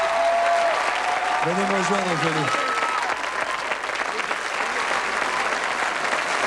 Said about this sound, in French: Et on doit l'applaudir pour cela.